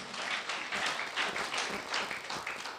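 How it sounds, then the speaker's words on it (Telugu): A church congregation at a revival meeting clapping hands loudly in a steady rhythmic beat, with dense, close applause pulsing evenly throughout. "కొట్టండి చప్పట్లు గట్టిగా, ఇంకా గట్టిగా."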